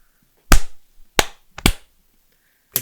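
Sharp slapping impacts of a fist punching a person's body, clap-like and close, four distinct hits spaced irregularly over a few seconds in an otherwise quiet room.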